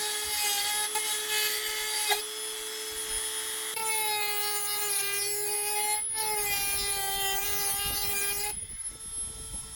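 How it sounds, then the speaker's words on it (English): A Dremel rotary tool smooths the jagged cut edge of a metal hole during a cell booster install on a 2020 Winnebago, whining at a high steady pitch that dips and shifts as it bears on the metal, running nearly throughout. "Now we got Dremel. This isn't going to make a lot of mess. It's just going to smooth up the edge a little bit."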